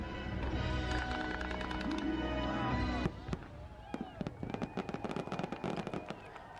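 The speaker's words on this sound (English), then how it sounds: "I haven't seen fireworks in so long." Fireworks at Mickey's Not So Scary Halloween Party in Florida: a steady low rumble of bursts, then rapid, scattered crackling pops, heard from some distance with faint crowd sound underneath.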